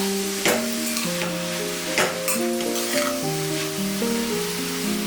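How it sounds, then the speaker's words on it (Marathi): Red carrots for carrot halwa fry and are stirred in a pan, giving a steady sizzle with a few sharp scraping clacks of the spoon over a melodic tonal background. "छान असं जरासा परतून घ्या, गाजराचा रंग बदलेल। छान एकसाथ ढवळून घ्या।"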